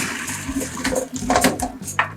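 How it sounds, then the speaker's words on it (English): Cold water running from a tap over blanched chicken in a strainer, a continuous splashing gush with uneven bursts and some clatter, close and fairly loud. "Once you strain it, run cold water over it."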